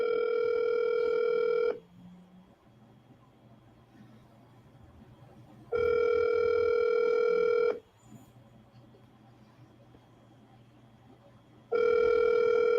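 On an outgoing telephone call, the ringback tone sounds three times in long two-second pulses, each followed by about four seconds of quiet line noise before the next ring.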